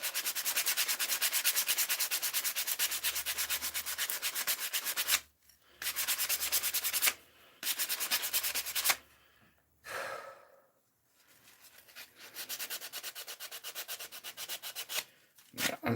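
Coarse 40-grit sandpaper is rubbed by hand over old paint and varnish in several bursts of fast, rhythmic scratchy strokes, broken by short pauses with audible breathing and sighs close by.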